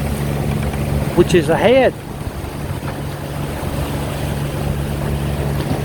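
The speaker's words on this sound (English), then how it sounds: "We're motoring right now, not sailing." A charter boat in the British Virgin Islands motors toward Norman Island under engine power, not sail, its engine a steady droning hum with wind and water over it while a person talks briefly.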